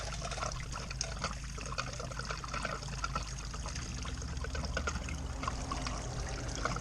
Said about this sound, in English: Alright, where's all that water going? In the belly pan.